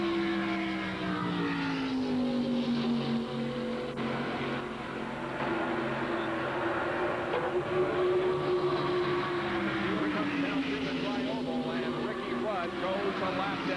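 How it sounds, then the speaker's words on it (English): Stock cars at the 1991 Winston 500 at Talladega drone past on the track, a sustained engine roar with a sweeping pitch as cars pass, heard from a distance with faint crowd ambience. "Cars are now in turn 3 of the field. And let's listen to the cars."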